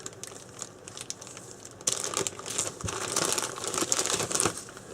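A plastic baggie crinkles and rustles close up, quiet at first and then louder and denser as it is handled and pulled open.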